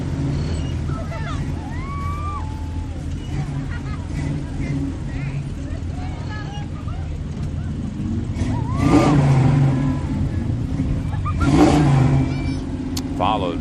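Ford Mustang cruising in a street parade in Long Beach, its engine a steady mid-pitched drone that swells briefly twice as it revs, with crowd chatter and other parade noise around it.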